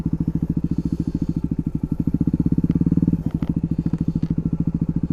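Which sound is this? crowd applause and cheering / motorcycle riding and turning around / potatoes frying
motorcycle riding and turning around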